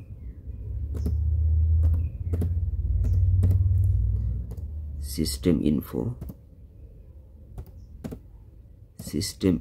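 Typing on a laptop keyboard: sharp individual key clicks, some single and some in quick clusters, close and clear. A low rumble sits beneath the first half, and a voice briefly speaks midway.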